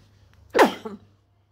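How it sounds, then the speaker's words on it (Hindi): A single sharp sneeze from a woman standing outside the Virupaksha Temple in Hampi, close to the microphone, bursting out with a breathy onset and a short trailing second gasp, then quiet. "सारी छींक आ गई"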